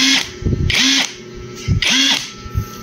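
Makita impact wrench revving close and loud in a few short whirring bursts, with thumps and handling noises between them, and no speech.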